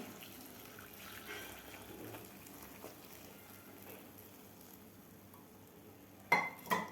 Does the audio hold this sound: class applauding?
no